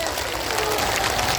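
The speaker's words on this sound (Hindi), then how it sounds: "हमारे संजय जी महाराज का भी एक बार जोरदार ताली से स्वागत करें।" An audience at a spiritual discourse claps loudly to welcome a guest, a dense, sustained burst of applause with some voices mixed in throughout.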